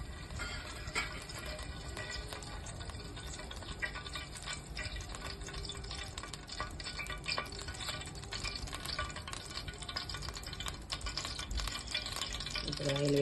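Hot oil sizzling and frying in a pan while a spicy mutton head curry is started, a steady dense crackle that swells slightly toward the end, with no clear talk over it.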